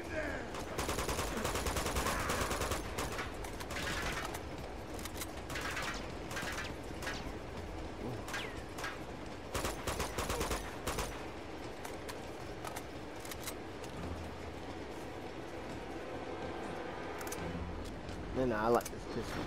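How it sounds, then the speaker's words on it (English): Pistol gunfire from the Uncharted 2: Among Thieves video game, with repeated sharp shots scattered through a busy, loud game mix of action sounds and effects, mostly without talk over it. "I like this pistol for 12 shots."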